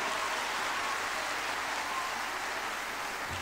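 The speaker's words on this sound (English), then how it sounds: "we can clap better. We can make it louder." Continuous thick applause from a large conference audience at a leadership assembly fills the hall, even and sustained throughout with no talk.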